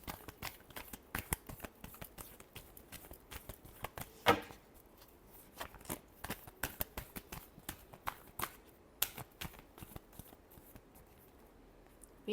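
Tarot cards are shuffled by hand in a quiet room, making a run of soft, quick riffling and slapping bursts that come in an irregular rhythm and stay close and fairly faint throughout.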